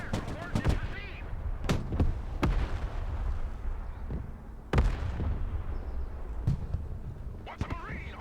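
Mortar and artillery fire in the war video game Broken Arrow: repeated sharp, booming launches and impacts at irregular intervals over a constant low battlefield rumble, with radio-style voices talking in between.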